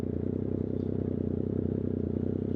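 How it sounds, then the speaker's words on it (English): A Triumph 765RS motorcycle with a new aftermarket exhaust and tune, its engine droning steadily at a constant pitch, heard from the rider's position during a ride, with no talk. "just a short little ride testing out the new exhaust"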